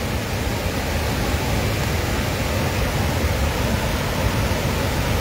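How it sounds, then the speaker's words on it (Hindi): The Swan river in Una rushes in full flood, a loud, dense, unbroken roar of churning water close by with no let-up. "आप सुनिए किस कदर स्वा नदी जो है वो अपने पूरे शबाब पर है।"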